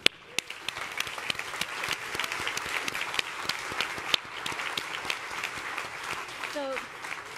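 Audience applause at an F1 team car launch event, a dense, steady patter of many hands clapping in a large hall, holding at moderate loudness with a voice speaking near the end.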